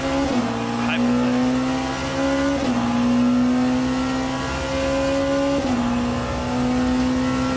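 A Hypercar prototype race engine in the sim Le Mans Ultimate, racing at Circuit de La Sarthe, drones loud and steady, the pitch climbing through each gear before snapping down at upshifts.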